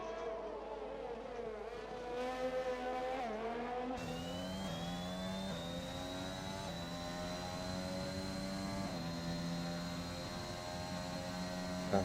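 A Honda F1 power unit in a racing video game, on the Azerbaijan Grand Prix circuit, drones continuously with a rich buzzing whine that climbs and settles through gear changes, loud and steady throughout.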